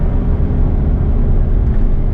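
An old 8.1-litre gas V8 truck accelerating while towing 18,000 pounds, a loud, dense, unbroken low drone of engine and road noise heard from the cab, steady with no talking.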